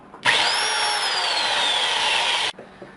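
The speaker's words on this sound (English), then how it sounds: "I've drilled the holes" A power drill bores through a plastic bucket being prepared for growing oyster mushrooms, one steady, loud, continuous whine of the motor with a slowly falling tone, lasting a little over two seconds before stopping abruptly.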